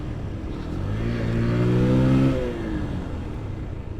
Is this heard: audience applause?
no